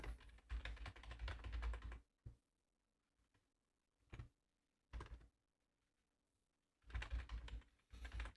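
Typing on a computer keyboard comes as close, quiet clusters of rapid key clicks, separated by pauses and short isolated taps.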